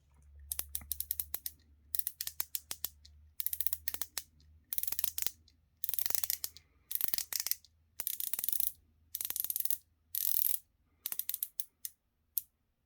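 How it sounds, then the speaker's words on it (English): Ratcheting bezel of a Duka Aquatimer homage diver watch turned by hand, close crisp bursts of rapid metallic clicks in uneven runs separated by short pauses, alone. "So now let's check out the bezel rotation."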